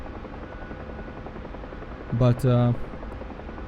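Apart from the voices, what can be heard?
UH-1 Huey helicopter flying in the video game DCS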